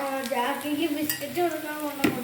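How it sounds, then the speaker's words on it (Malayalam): Raw rice roasting in a pan while being stirred gives steady scraping and light rattling strokes close by, with a soft sizzle underneath and one sharper clack near the end. "അരിയൊക്കെ ഒന്ന് മൂത്ത് വന്നുകൊണ്ടിരിക്കുകയാണ്"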